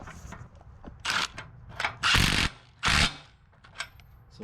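An impact wrench tightens locking nuts on bolts during a B&W flip-over ball hitch install, firing in several short loud rattling bursts separated by quiet gaps, heard up close.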